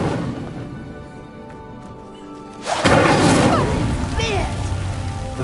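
An Incendio fire spell ignites a pyre in Hogwarts Legacy, a sudden whooshing burst of flame that swells loud and then roars on steadily, with a game voice speaking over it.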